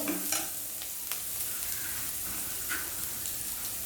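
White vermicelli sautés in a pan, making a continuous crackling sizzle with light stirring scrapes and a few soft taps, close and even throughout.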